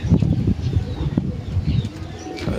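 A racing pigeon returns from a race and lands at its loft, giving soft, low coos with a few brief wing flaps, close by and with no talking.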